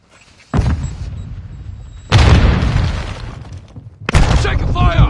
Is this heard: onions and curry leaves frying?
no